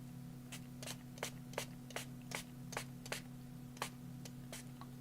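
Short spritzes of ink spray stain land on a craft layer, about ten brief bursts in an irregular rhythm, close and fairly quiet over a steady low hum.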